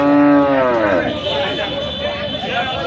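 Cattle at the Sarulia weekly livestock market moo loudly and close by in one long, drawn-out call, followed by crowd noise and a voice speaking nearby.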